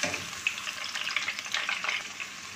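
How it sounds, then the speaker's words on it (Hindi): Ginger, garlic and green chili paste fries in a generous amount of oil for beef korma, giving a bright, close sizzle with scraping stir strokes throughout a short stretch, no voices. "इसे थोड़ी सी देर के लिए फ्राई करेंगे।"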